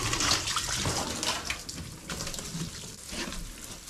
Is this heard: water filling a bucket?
yes